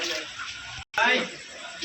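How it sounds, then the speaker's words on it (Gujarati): Water splashes and swishes in a basin as fenugreek leaves are soaked and washed by hand, a steady close wash broken by a short pause. "મેથી ધોઉં છું"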